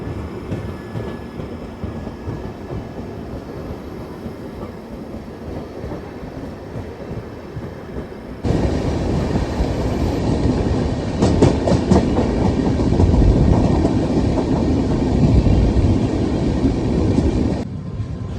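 Bangalore Rajdhani Express running on rails past Amla Junction in Madhya Pradesh, a steady rumbling roll with rhythmic clickety-clack wheel beats that grows louder and denser midway, continuous and close with no talk.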